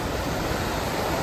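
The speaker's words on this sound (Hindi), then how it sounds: "सुंदर दृश्य, ऊपर से झरना आ रहा है" A waterfall on the Amarnath Yatra mountain trail between Sheshnag and Panchtarni pours as a steady, dense broadband rush, constant and unbroken throughout.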